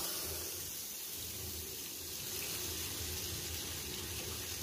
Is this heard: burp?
no